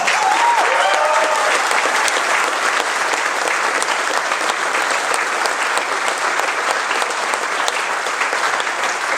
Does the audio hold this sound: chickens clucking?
no